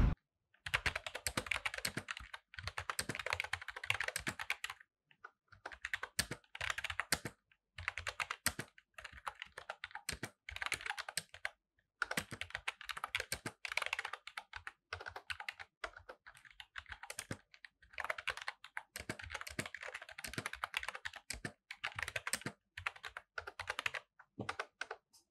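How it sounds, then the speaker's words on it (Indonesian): Typing on a Nemesis KC-500 plastic membrane computer keyboard: soft, fairly quiet, non-clicky keystrokes in rapid bursts, separated by brief pauses, close by with no voices. "keyboard type-nya ini menggunakan membrane, sehingga pas ngetik ini terasa lembut dan tidak terlalu clicky."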